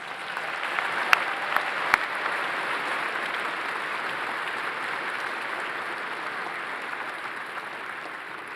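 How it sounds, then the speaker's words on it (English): A large crowd at a Fall 2022 university commencement applauds the doctoral candidates after their hooding, a steady even roar of many clapping hands with a few sharper claps early on. "Let's give our doctoral candidates a round of applause."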